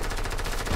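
Rapid automatic gunfire in the video game Fortnite, a dense, loud burst of shots that fills the whole short moment with no pause.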